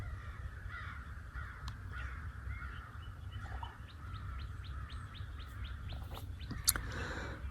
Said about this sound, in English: Here come the crows and a tree knock.